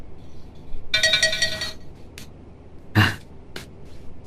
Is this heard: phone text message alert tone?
yes